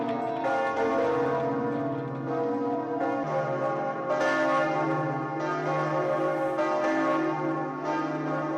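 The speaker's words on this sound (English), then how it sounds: "Those are the bells of Notre Dame ringing for the first time in Paris since the fire today." The bells of Notre-Dame cathedral in Paris ring out together in a dense, resonant peal, with strokes overlapping in a steady rhythm and a low hum sustained beneath them; no voices are heard.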